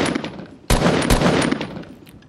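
Gunfire in the Fortnite battle royale video game: a loud, close burst of rapid shots starting partway through, with sharp cracks followed by a sustained rattling barrage that gradually fades.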